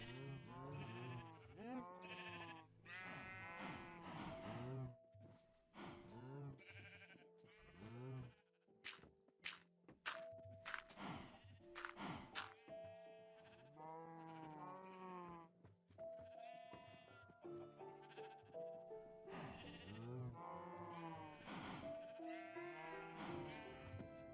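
Sheep in the Minecraft video game bleat repeatedly at close range, several overlapping calls at an irregular rhythm over steady game tones and background music, with no talking.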